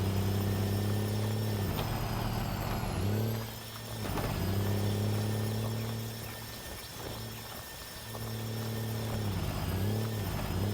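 Loud, piercing turbo whine from a 6x6 truck engine in the off-road game Spintires, a steady high-pitched tone over a droning engine that dips briefly twice as revs fall and rise, with no talking.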